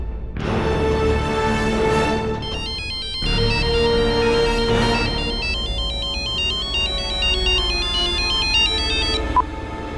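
A phone ringtone plays loudly and repeatedly in a melodic, cycling pattern for the whole stretch, with nobody answering the call.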